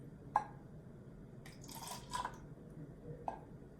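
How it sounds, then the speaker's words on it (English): Water gently poured back and forth between containers during a classroom fine-motor practice, heard as a few soft splashes and trickles with short drips, faint and close. "practice gently pouring the water back and forth"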